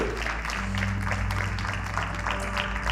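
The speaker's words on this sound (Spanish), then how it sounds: "¿Cuántos le pueden dar un fuerte aplauso a Dios?" A congregation applauds during a church service: broad, steady clapping spread across the room, with a low sustained hum and tones running beneath it throughout.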